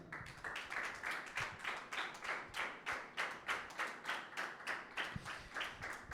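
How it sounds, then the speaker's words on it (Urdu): Audience at a Sunday church service claps steadily in praise of Jesus Christ, a dense, even run of rhythmic claps about two or three per second lasting several seconds, with no voices over it. "یسوع مسیح کے لیے تالیاں بجائیں"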